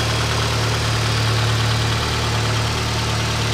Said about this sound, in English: Cold right now, so you run a little higher idle.